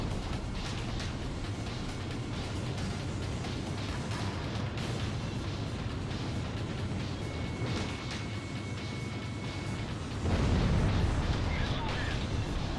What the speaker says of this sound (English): Radar lock. Missile launched.